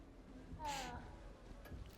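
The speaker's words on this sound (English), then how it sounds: "Little cat." A cat in the video game Hogwarts Legacy gives a single short, faint meow against quiet background sound.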